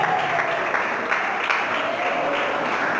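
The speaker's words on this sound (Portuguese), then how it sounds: "glorificar o Senhor com palmas" A church congregation claps together in steady, sustained applause in praise of God during a worship service, with a faint murmur of voices underneath.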